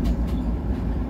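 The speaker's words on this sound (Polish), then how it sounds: "ten stary most kolejowy, właśnie ten, po którym jeździmy" A train rolls over an old railway bridge, giving a loud, steady low rumble from close by for about a second with no voices.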